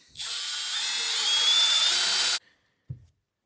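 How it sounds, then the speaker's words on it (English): A power drill whines steadily for about two seconds, close and loud, drilling a hole in metal for a railing, then cuts off, followed by a short low knock. "Okay, so we're gonna drill a hole."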